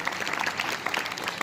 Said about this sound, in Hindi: जोरदार तालियों के साथ इनका स्वागत करें